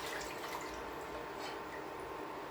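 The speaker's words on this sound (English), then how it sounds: "We're going to put in 1 1/2 cups of just plain water." One and a half cups of plain water pour steadily into a cooking pan for date bars, a continuous splashing rush that stays close and even throughout, with no talking.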